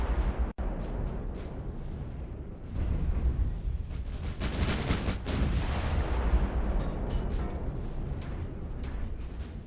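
Big naval guns firing in the naval warfare game Ultimate Admiral: Dreadnoughts, heavy booming salvos rolling into a continuous rumble after one sharp early blast, loud throughout.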